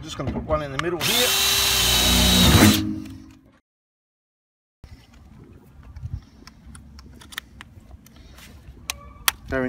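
A power drill whines through a pilot hole in a bolted fitting in one loud, close burst of about three seconds, then spins down and stops. Light clicks and handling noises follow.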